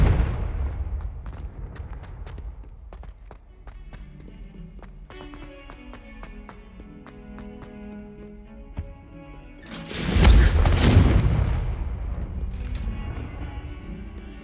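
Confringo fire spell explosions burst in the Hogwarts Legacy video game, a loud fiery blast swelling up after a stretch of quieter game ambience and hoof-like clatter, then fading away.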